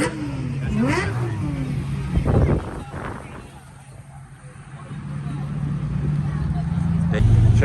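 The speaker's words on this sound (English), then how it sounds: "Got an M4, M3 right here rolling in." A white BMW M4 rolls into a busy car meet, its engine note rising and falling in the foreground over crowd chatter and other cars, with a brief louder rev near the middle.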